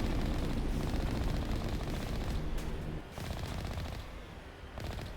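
Enemy gunfire in the Mass Effect game, with Geth troops firing: dense rapid automatic bursts with scattered sharp shots, steady and moderately loud throughout, briefly dipping midway.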